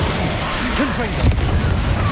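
A Confringo spell explosion in the video game Hogwarts Legacy: a booming burst with crackling debris amid a busy, loud combat soundscape, with a shouted voice nearby.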